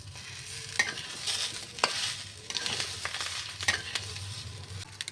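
Rice and vegetables frying for khichuri with soaked soy chunks, a steady close sizzle under repeated scraping stirs of a spoon through the pan, no talking.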